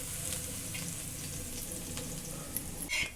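Garlic frying in oil on a hot griddle, a steady close sizzle and crackle holding through with a brief louder spit near the end.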